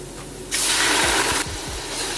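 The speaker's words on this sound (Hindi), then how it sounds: "अब हम इसमें थोड़ा सा पानी ऐड करेंगे" Water poured into a hot pan of browned onions gives a loud sizzling hiss that bursts up and holds for about a second before easing.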